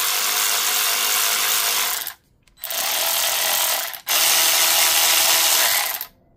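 A Craftsman V20 cordless ratchet whirs loudly in three steady bursts, each cut off by a short pause before the motor spins up again, with no talking.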